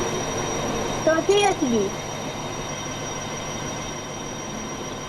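An Indian Army diesel train runs on rails with a continuous low rumble, while a person speaks briefly over it.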